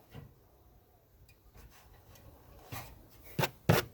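Hand sanding of a boat rudder, quiet scratchy rubbing strokes that build to two louder, sharper rasps near the end.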